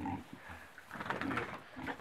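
Pigs on a permaculture farm, one a spotted sow with big floppy ears, grunting and snuffling close by in short bursts through two seconds.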